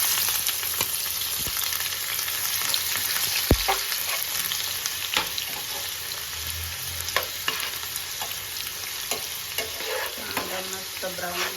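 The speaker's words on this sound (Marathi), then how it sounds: "तेल टाकले आपण कांदा टाकून." Onion sizzling in two spoons of hot oil in a pan for chicken sukka, a steady broadband fry with occasional stirring clicks and scrapes, close and continuous without talk.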